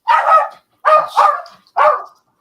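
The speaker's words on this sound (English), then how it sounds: "That damn dog just won't leave me alone." A dog barks four times in quick sharp bursts, loud and close, with brief silences between barks and no other sound.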